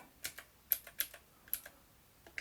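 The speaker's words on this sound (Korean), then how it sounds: "이거 키보드 눌러서 막 이렇게 하는 약간 옛날 게임기처럼 사용할 수 있도록 되어" Keys pressed on the small keyboard of a Divoom Ditoo retro-computer-style speaker, a handful of light, separate plastic clicks spaced unevenly, close and quiet in a still room.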